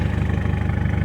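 A Ford Fiesta engine idles through an exhaust with no rear backbox, giving a steady, loud, close droning rumble with a faint pulsing throb and no speech.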